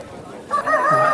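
A rooster at a Sunday rooster market in Vijayawada gives a short, close crow with a rising then falling tone, over a background murmur of people talking.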